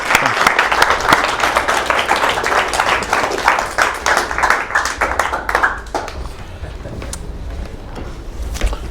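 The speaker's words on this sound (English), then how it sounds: "Another big round of applause for him." An audience applauds with dense, steady clapping that swells and then thins out over several seconds.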